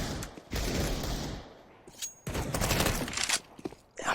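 Pistol shots ring out in a Counter-Strike match on Dust 2, a Desert Eagle among them, with sharp bursts and rattling gunfire in clusters, loud and close amid brief gaps.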